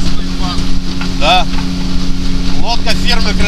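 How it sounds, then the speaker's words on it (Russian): A Kristall Pivden motorboat engine drones steadily with a constant low hum and wind buffeting the microphone, loud and close, while people speak over it. "Лодка фирмы Кристалл Пивдень."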